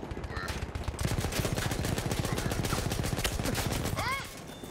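Rapid automatic gunfire in Battlefield 1, a loud dense stream of shots rattling steadily for several seconds before easing off, with a few whistling effects near the end.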